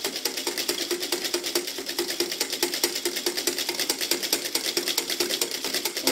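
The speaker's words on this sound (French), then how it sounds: "On fouette pendant une bonne petite minute." A whisk beats mousseline sauce, a buttery enriched hollandaise, in a bowl with fast, steady rhythmic clicking and scraping strokes that repeat evenly throughout, close and fairly loud, with no voices.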